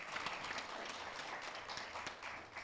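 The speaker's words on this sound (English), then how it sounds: "A round of applause again for." Audience applause for a moderator and panelists at a youth and women leadership event, faint continuous clapping with scattered sharper claps throughout.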